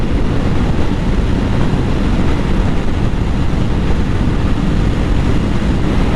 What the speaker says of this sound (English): now I'm cruising at 60 miles an hour or so. I'm in 6th gear